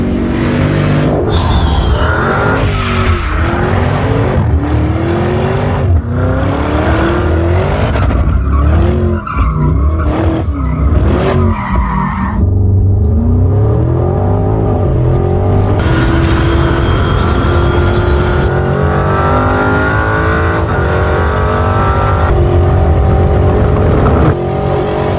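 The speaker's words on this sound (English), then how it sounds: "Cayenne Turbo GT is powered by a 4-liter twin-turbo V8 engine producing 631 horsepower" Porsche Cayenne Turbo GT with a 4-litre twin-turbo V8 in the Need for Speed No Limits racing game, a loud continuous roar of revving engine and squealing, skidding tyres that rises and falls across rapid gear changes.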